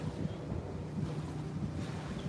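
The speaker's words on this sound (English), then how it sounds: "It kind of sounds like that boat that's coming right there," A low, steady motorboat drone rumbles across the water, with wind buffeting the microphone throughout.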